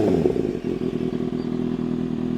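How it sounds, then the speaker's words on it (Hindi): Superbike with an Arrow aftermarket exhaust revving close by: a brief throttle blip at the start settles into a throaty rumble broken by sharp popping and crackling bursts from the exhaust, loud and without speech. "और ये कितने सही पटाखे मार रही है आप सुन सकते हो कितने ज़्यादा सही है।"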